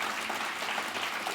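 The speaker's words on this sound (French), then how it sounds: "Ça s'applaudit, mesdames et messieurs." A crowd applauds steadily, dense clapping filling the room at an even level throughout.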